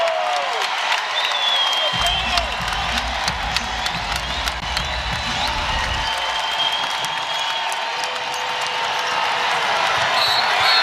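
A crowd at a Louisville vs North Carolina women's basketball game cheers and applauds loudly and continuously, with sneaker squeaks, ball bounces and commentators talking over the noise.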